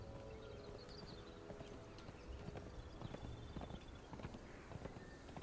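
A horse gallops in a video game, its hooves a faint, fast patter of soft clip-clops over a steady background hum, continuing through the whole stretch.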